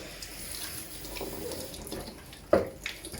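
A kitchen sink tap runs in a steady wash while a sponge is rinsed, with a sharp clunk and a smaller knock near the end.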